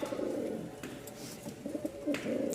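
Giribaz pigeons, a pair kept in a loft, coo in low throaty rolling phrases, several overlapping calls close by and fairly loud with no talk.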